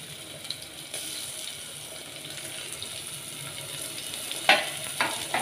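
Chopped tomatoes frying with softened onions in a pan, giving a steady close sizzle with light stirring scrapes and a couple of sharper clinks near the end, no talking.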